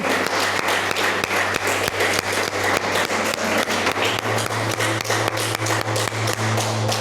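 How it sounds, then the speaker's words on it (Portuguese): Church congregation clapping together in a steady, continuous round of applause, close and fairly loud, with no talk over it. "Vamos aplaudir o Senhor."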